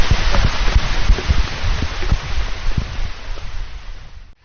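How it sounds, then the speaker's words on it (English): Heavy rain pours down on a trail, a loud, dense, steady hiss of a downpour with scattered patters and drips, close and constant throughout with no voices. "That was a pretty heavy downpour."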